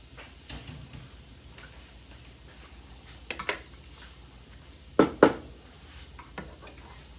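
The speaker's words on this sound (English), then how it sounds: "So we're just mixing the rice cauliflower up into our ground beef" Ground beef and riced cauliflower are mixed in a pan, a spoon scraping and tapping against the pan in irregular clinks, with a couple of louder knocks midway over a quiet low background.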